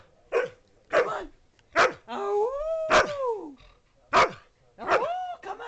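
A dog gives a run of short barks and yips broken by a rising, wavering howl in the middle, close and clear over a quiet room, with a person's voice faintly in between.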